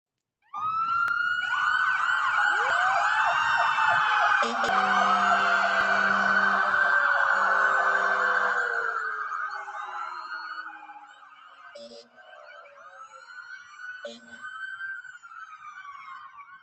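Several emergency vehicle sirens wail together outside a hospital ER, loud and close, rising and falling over each other, then thinning out with a couple of short horn blasts near the end.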